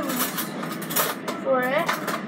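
Two spoons clink and scrape against dishes and utensils while preparing hot sauce, with a person talking over the quick, bright metallic taps.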